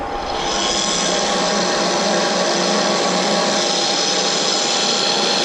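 A vertical milling machine runs at 500 RPM, giving off a steady, loud, bright whirring and grinding hum that holds constant from start to finish with no talking over it.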